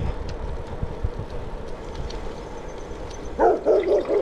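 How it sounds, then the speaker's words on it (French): A low rolling rumble of road noise continues throughout. Near the end a dog barks a few times, fairly close and loud. "encore un chien"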